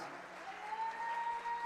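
Audience applause at an African reconciliation opening event, a fairly faint, continuous wash of clapping from a crowd heard at a distance, with a thin steady tone running through it.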